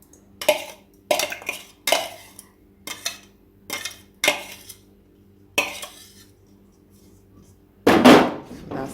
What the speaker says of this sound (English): in this container I mince hot pepper, onion,